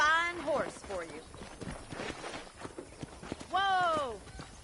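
Horse hooves clip-clop steadily in the Red Dead Redemption western game, moderately near, under voices talking, with a high neighing horse call at the start and end.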